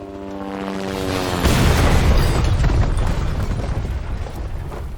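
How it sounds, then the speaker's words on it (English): A helicopter crash explosion in Resident Evil 2 Remake erupts as a deep rumbling boom after a brief tonal lead-in, then rolls on as a loud, sustained, rough roar. "So we've heard that helicopter crash before."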